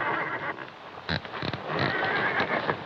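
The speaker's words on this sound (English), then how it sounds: "Wonder what's wrong with them horses." A horse whinnies amid a noisy, busy background, with a few sharp snorts or calls standing out near the middle.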